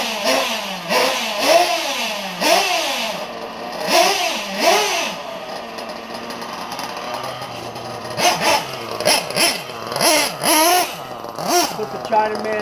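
A Hyper 7 RC car runs in the rain, its engine revving in repeated rising and falling bursts, loud and close, with a quieter stretch in the middle before the revving returns.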